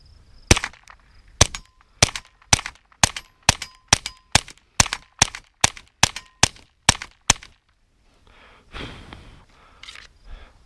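Suppressed .22 LR gunshots firing lead rounds through a HUXWRX RAD 22 suppressor: about fifteen sharp, evenly spaced reports in a steady rapid string, loud and close, followed by a couple of seconds of quieter handling noise.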